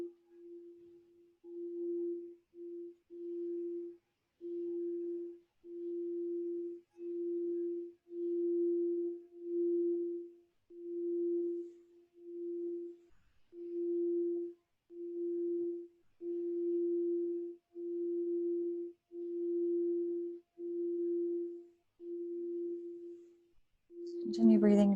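A steady pure tone for heart chakra activation pulses in a slow, even rhythm of separate beats, each a second or so long, alone and without talk; a brief noisy burst closes it.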